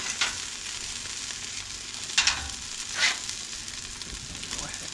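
Bacon and an egg frying on a hot surface for a cheeseburger, a steady close sizzle with a few brief spatters and scrapes, no talk.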